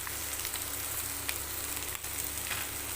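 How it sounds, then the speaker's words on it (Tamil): Okra sautéing in hot oil in a pan: a dense, continuous close sizzle and crackle with faint stirring scrapes, no talking. "வெண்டைங்காயை போட்டு எண்ணெய் ஊற்றி இப்போ வதக்கிட்டுருக்கோம்"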